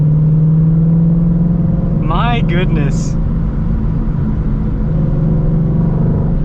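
A 2022 Shelby GT500 engine drones with a steady, loud low rumble from inside the cabin while driving, continuous throughout, with a driver's brief exclamation over it.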